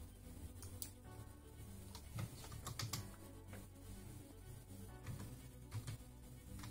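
Faint, scattered keystrokes on a computer keyboard while coding in Scratch, light irregular clicks with a few brief bursts, heard alone in a quiet room.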